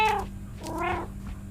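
Two short meows from a cat in a cat video game, the first higher and sharper, the second drawn out, heard alone over a faint steady hum.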